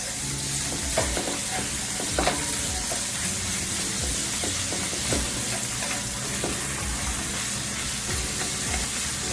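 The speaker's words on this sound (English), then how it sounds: "And I like to use a half of Scotch bonnet pepper. And you saute this for about 2 to 4 minutes." Half a Scotch bonnet pepper sautéing in a pot as the base for brown stew fish, a steady close sizzle with occasional stirring scrapes and small pops throughout.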